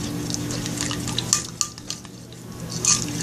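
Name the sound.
stirring slime mixture with cornstarch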